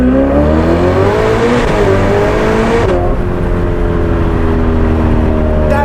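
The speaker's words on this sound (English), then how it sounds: "That exhaust system is perfection. Listen to that." A Novitec-tuned Ferrari F8 Spider convertible with 802 horsepower revs its engine loudly through its exhaust, the pitch climbing and falling in a continuous close-up roar with no talking.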